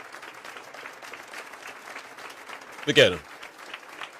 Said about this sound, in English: A lot of people clapping.